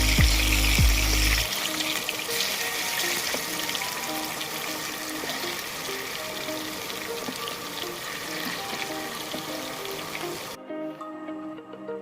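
Potato pieces fry in hot oil in a pan while a Bengali fish curry with aubergine is being prepared. A dense, steady sizzle continues for about ten seconds, then cuts off abruptly.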